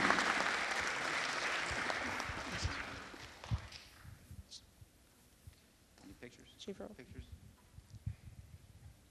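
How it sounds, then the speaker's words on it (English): A council meeting audience applauds, loud and dense at first, then thinning into scattered claps with shuffling and faint voices as it dies away. "Let's give them one big round of applause"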